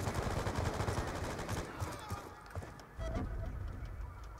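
Rapid light machine gun fire in Call of Duty Black Ops 2 during a Hardpoint match on the Slums map, dense rattling bursts up close that ease off briefly and then resume, with faint game sounds around them.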